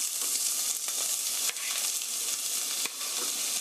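Chopped onion sizzling steadily in heated oil in a pan, a dense continuous frying hiss with a few faint stirring clicks, close and alone.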